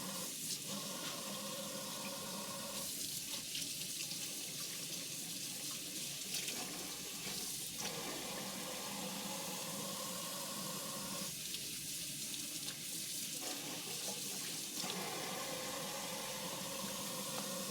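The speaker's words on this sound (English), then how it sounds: "I just use hot water and one of my homemade scrubby pads." Hot water runs steadily from a kitchen tap over dirty eggs being scrubbed with a homemade scrubby pad, a continuous close splash with slight changes as the eggs move under the stream.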